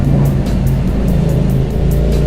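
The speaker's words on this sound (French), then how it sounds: "j'avais les 3 Lamborghini de retour derrière moi" Three Lamborghini Huracan Performante supercars rumble from behind a Yamaha MT-07 rider, a deep, steady engine drone under wind noise that stays loud and close throughout.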